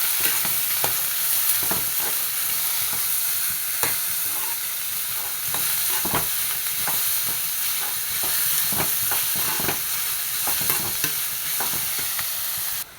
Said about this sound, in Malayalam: ഇഞ്ചി വെളുത്തുള്ളി ചതച്ചത് ഇതൊന്ന് നന്നായിട്ട് വഴറ്റിയെടുക്കണം